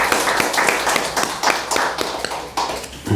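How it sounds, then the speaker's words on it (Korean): A church congregation claps in welcome for visiting parents, a loose, uneven burst of hand claps with distinct individual slaps standing out, close and fairly loud. "우리 뒤에 계신데 박수로 환영해 줍시다"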